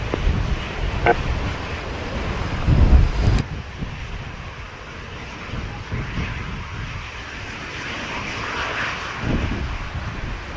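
Airliner engines rumble at Montego Bay airport in Jamaica, a broad steady roar with a louder surge early on before settling into a continuous wash, with gusty wind mixed in and no talk.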